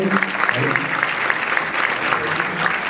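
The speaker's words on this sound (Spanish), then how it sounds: "Federico, vamos a aplaudirlo" Audience at a tourism panel discussion applauds steadily, a dense, moderately loud clatter of clapping with faint voices mixed underneath.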